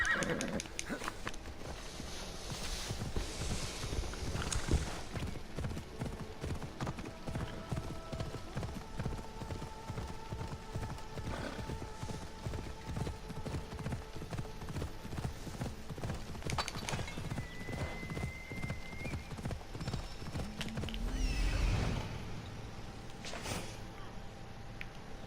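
Hooves clip-clop steadily as a horse is ridden in Assassin's Creed Odyssey, a continuous rhythmic trot at moderate volume, with a brief whinny and faint game sounds but no talk.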